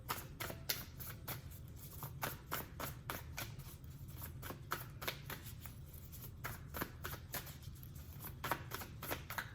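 Tarot cards are shuffled by hand in a quiet room, a rapid stream of soft papery flicks and riffles repeating steadily throughout, faint and close, with no talking.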